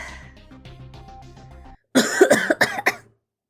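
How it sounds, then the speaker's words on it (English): A burst of harsh coughing, several rapid coughs in a row close up, following a brief stretch of soft music. "I ended up having an actual coughing fit"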